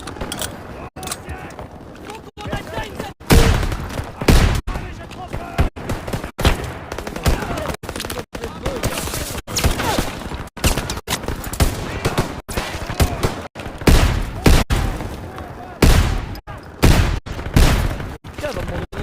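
Gunfire in Call of Duty WW2, repeated loud bursts of shots and automatic fire in rapid clusters with brief gaps, close and punchy throughout.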